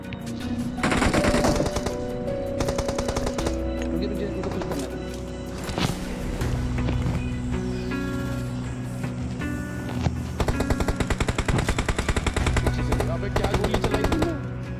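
Video game gunfire in PUBG Mobile: rapid automatic bursts and scattered single shots ring out across the whole stretch, loud and dense, with brief pauses between volleys and voices talking underneath.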